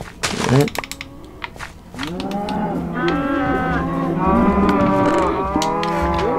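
Cattle moo in a farming video game, several long drawn-out lowing calls overlapping near and loud, after a brief burst of someone talking and a few keyboard clicks.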